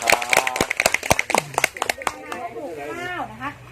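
A group of people on a community learning-centre visit clap their hands in a few sharp, close bursts, followed by a person speaking over the last of the claps.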